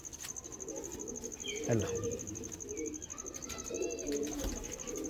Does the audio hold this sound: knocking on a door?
no